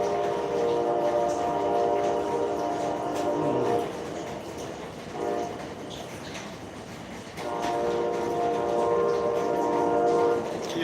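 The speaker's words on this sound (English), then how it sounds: "I've never seen a place where more trains run through." Train rolling past an off-grid homestead, loud rumbling and rail clatter with a sustained horn blaring near the start and again toward the end, close and dominant.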